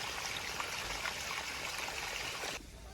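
A mountain stream trickles and splashes in a continuous bright, fairly close rush that cuts off abruptly near the end, with no voices present.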